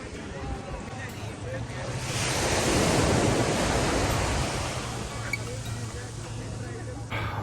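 Steady surf on Jurere Beach in Brazil, a broad continuous wash of waves that swells slightly midway, with wind noise and a person walking along the shore.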